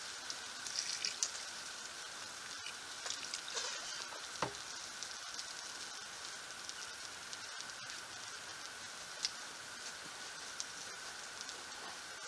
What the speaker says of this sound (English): Nice juicy steak over the fire.